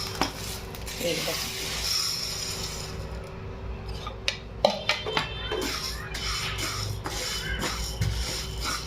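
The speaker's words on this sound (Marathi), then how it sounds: "मी तांदूळ भाजून घेते जास्त नाही थोडेसे भाजायचे" Rice dry-roasting in a pan, stirred with a utensil that scrapes and clinks against the metal in irregular strokes, a faint crackle underneath, no one speaking.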